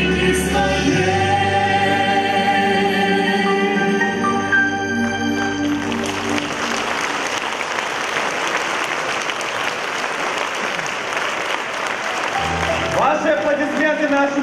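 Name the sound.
audience applause for contest participants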